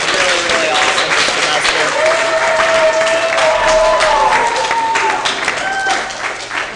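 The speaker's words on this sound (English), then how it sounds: "give yourselves a round of applause for being really, really awesome" Chemistry students applaud at the end of a semester class, a continuous crowd wash with some cheering and tonal whistles or voices mixed in, fading slightly at the close.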